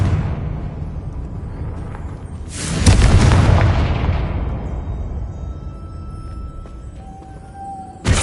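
A Confringo fire spell explodes in a Harry Potter video game with one loud, close boom that swells and then rumbles away over several seconds, followed by a quieter bed of ambient sound.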